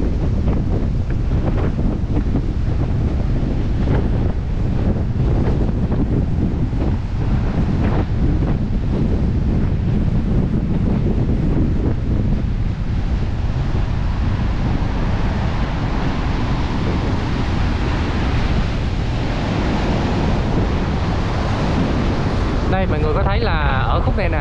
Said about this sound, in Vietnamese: Nhưng mà bây giờ thì mùa này gió cực kỳ luôn.